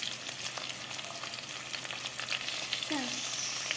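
Onions and carrots sizzle and crackle steadily in a hot kadai, with occasional scraping of a stirring spoon, close and continuous.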